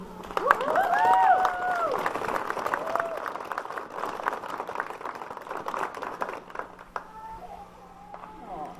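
An audience at a Mount Rushmore flag ceremony for the 328th Radio Research Company claps and cheers. The applause is strongest at first, then thins to scattered clapping with voices in the crowd.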